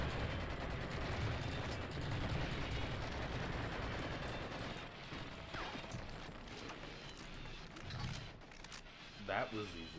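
Gunfire with explosive rounds in a video game, sharp repeated shots and mechanical clatter running under near-constant talking.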